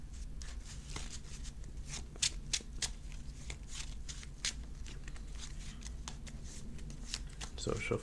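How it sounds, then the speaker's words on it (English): A Yu-Gi-Oh Machina card deck is shuffled by hand, giving a quiet run of crisp riffling and flicking clicks that repeat steadily close by, with no voices. "So shuffle our deck."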